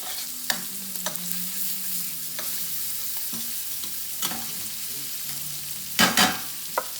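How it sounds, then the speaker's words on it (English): Minced shallot sizzles in a steak pan with meat drippings, a steady soft frying hiss broken by scraping stirs and a few sharper clatters near the end. "the shallots are going to go in. That's 1 shallot minced."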